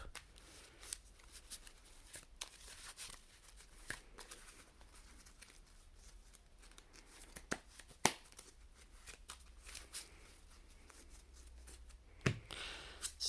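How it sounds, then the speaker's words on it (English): A deck of Yu-Gi-Oh cards is shuffled by hand, soft riffling and sliding bursts recurring quietly and close, with a few sharper card taps along the way. "let's go ahead and shuffle up."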